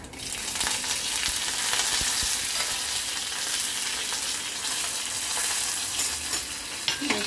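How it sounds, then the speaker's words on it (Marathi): Steady crackling sizzle of garlic frying in hot oil with mustard seeds, cumin and curry leaves, loud and close, with occasional sharper pops and no voices. "लसूण तडतडली"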